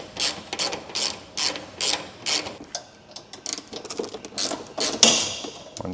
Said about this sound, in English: I can start by removing the bolts for the gas tank